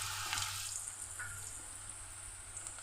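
Peanuts for pakodi drop into hot oil for deep frying, giving a faint, steady sizzle with soft crackles and no talk.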